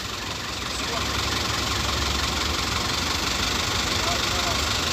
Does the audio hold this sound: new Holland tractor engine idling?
yes